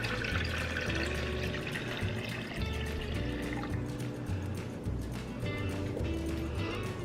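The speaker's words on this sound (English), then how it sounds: "One cup of orange juice. And 3 cups of lemon lime soda." Orange juice and lemon-lime soda pour steadily for a homemade brunch drink, a continuous close liquid splashing and fizzing that runs throughout at moderate level.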